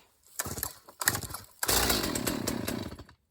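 A small engine is pulled a couple of times, then sputters to life with a rough, buzzing chainsaw roar that runs briefly before cutting off.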